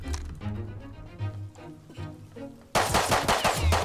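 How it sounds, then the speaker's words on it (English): Gunfire in the video game Rust comes in short rapid bursts, with muffled popping shots and then a louder, sharper volley near the end. Nobody talks. "Why are they shooting me?"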